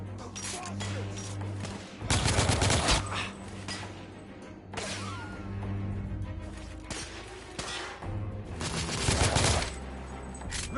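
Gunfire in the video game The Order: 1886, with repeated loud bursts of rapid shots and crashing impacts, broken by quieter gaps, over a steady low game background.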